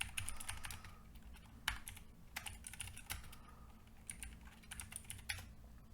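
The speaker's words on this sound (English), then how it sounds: "I'll just type it in manually then." Rapid clicking of a computer keyboard as a PowerShell command is typed by hand, irregular bursts of close, faint keystrokes with brief pauses and no talking.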